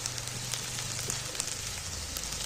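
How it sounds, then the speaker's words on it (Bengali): Chopped green chilies stirred into onions, frying in a pan for a chicken curry, give a steady close sizzle with faint scraping, alone and without talk. "কাঁচা লঙ্কাগুলো কুচি তুলে দিয়ে নাড়াচাড়া করে নিচ্ছি"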